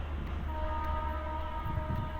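A very small train engine gives off a steady low rumble with a faint sustained whine above it, close and continuous.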